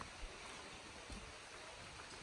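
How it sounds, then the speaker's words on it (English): A hidden waterfall on a rocky hillside trail high above sea level, heard as a faint, steady broadband rush of falling water with no break, distant and soft, with no one speaking over it. "Awesome, I can hear the waterfall."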